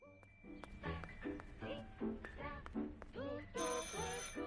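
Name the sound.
telephone ringing in video game Martha Is Dead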